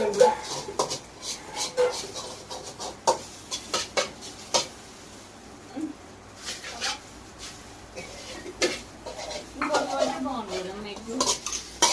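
Egg fried rice stirred in a pan in a village kitchen, with irregular metal scrapes and clanks of the spatula against the pan over a soft sizzle, while people talk intermittently.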